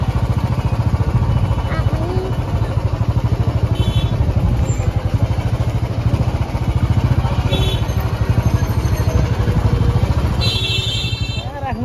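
A heavy motorcycle engine rumbles steadily and loudly at close range throughout, with a voice talking over it.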